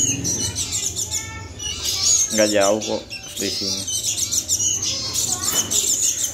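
Two sooty-headed bulbul chicks chirp in quick high bursts and short squeaky calls, close by, while a person talks over them.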